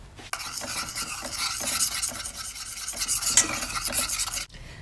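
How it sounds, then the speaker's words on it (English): Eggs and nutmeg are whisked into a sauce for moussaka, off the heat, making a busy, continuous scraping and clicking of a whisk against the pan that stops abruptly at the end, with no voices. "Whisk those in."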